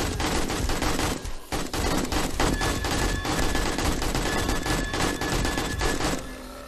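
Sustained rapid automatic gunfire in 7 Days to Die aimed at the heads of incubus zombies, loud and nearly continuous, with a brief pause early on before the bursts resume and then fade at the end.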